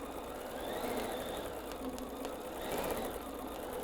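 Sewing machine runs fast in a steady, continuous whir of rapid stitching, close and even in loudness, with faint mechanical ticks over the hum.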